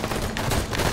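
Dense, continuous gunfire in Halo 5: Guardians, a rapid fusillade of overlapping shots at steady loudness throughout the brief moment with no pause.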